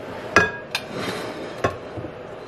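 A metal baking pan, its bottom already oiled, is picked up and set down for sourdough focaccia, giving three sharp metallic clanks with ringing overtones over a quiet kitchen background.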